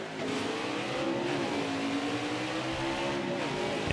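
Race car engines in the NASCAR Heat 4 video game roar steadily at night under the lights at Homestead, a close, continuous droning whine with shifting pitch.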